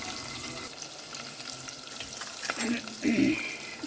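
Fenugreek, mint and curry leaves frying in a pan at home, giving a soft, steady sizzle with watery hiss and a few brief clinks near the end, no voices.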